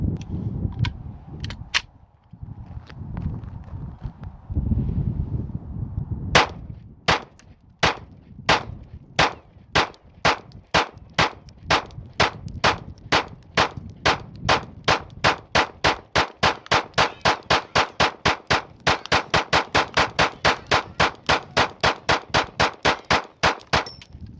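A Glock 19 pistol fires with a KCI 50-round drum magazine, starting with scattered shots and then a long fast string of sharp, loud reports that grow steadily quicker and more regular, each crack distinct outdoors.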